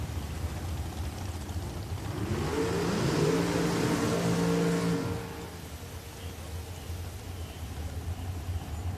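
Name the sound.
dragster racing at Richmond Dragway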